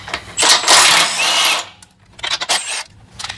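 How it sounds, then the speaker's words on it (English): Hand ratchet with a 15mm socket loosening body mount nuts on a Ford Bronco, giving a burst of close metallic clicking followed by shorter, quieter bursts after a pause. "grabbed our 15mm or 5/8 socket, and we're going to go ahead and undo those."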